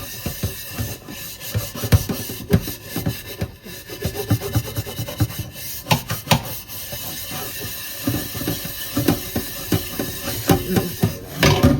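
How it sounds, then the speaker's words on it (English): Brillo pad scrubbing rust off kitchenware: a steady, close run of rough rubbing strokes in an uneven rhythm, scratchy and continuous with no talking. "So I'm going to scrub it with the Brillo pad."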